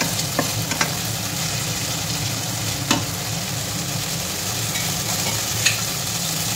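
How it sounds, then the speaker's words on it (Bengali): Ginger is stirred and fried in hot oil, giving a continuous close sizzle punctuated by a few sharp scrapes of the spoon. There is no speech. "এবার আদাটা আমি তেলের মধ্যে ভালোভাবে নেড়ে চেড়ে নিয়ে নেব।"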